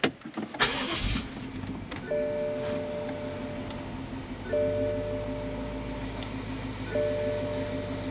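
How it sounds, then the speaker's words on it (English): A BMW engine cranks and fires up near the start, then settles into a quiet idle with steady tones from the car's electronics. The recording is faint and close, with no one talking. "So I guess that means to start the car."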